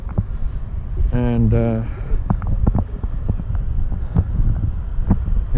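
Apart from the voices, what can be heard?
wind blowing on the microphone outdoors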